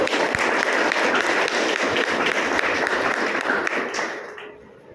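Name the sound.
loud audience clapping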